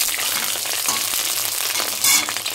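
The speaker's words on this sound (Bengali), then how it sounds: "এবার দিয়ে দেবো কেটে রাখা বেগুন। দেখো সবগুলো বেগুন দিয়ে দিচ্ছি। বেগুনটা একটু নাড়াচাড়া করে নেবো" Cut eggplant fries in hot tempered oil with a loud, steady sizzle close by, broken by a few scraping stirs and a brief hissing burst near the end.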